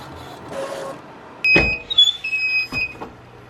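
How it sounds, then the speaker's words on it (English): A sublimation printer at work in a small business workspace gives a brief mechanical whir and clunk, then short electronic tones and another clunk, close and moderately loud. "So I thought I'd try to put my sublimation printer to work."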